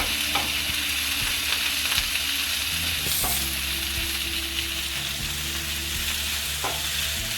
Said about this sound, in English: You want to saute the onions till they turn light brown.